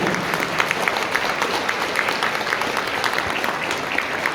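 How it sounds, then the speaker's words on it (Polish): Audience applause at an author evening in Stara Łubianka, a steady crowd of many hands clapping continuously at moderate loudness throughout, without speech. "Wielkie brawa dla naszych autorów."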